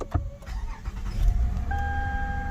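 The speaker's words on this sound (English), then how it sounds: "I'm going to start the car" Starter cranking of a Lexus ES350 V6 with a suspected cylinder 4 misfire, catching quickly and settling into a steady idle with a faint high whine, recorded close by inside the car.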